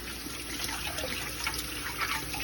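Running tap water pours steadily over organic yellow squash being rinsed, a continuous close splashing trickle with no talk.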